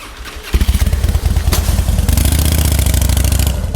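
A motorcycle engine cranks briefly, then catches and fires up, settling into a loud, close, rapid-pulsing run with no one talking.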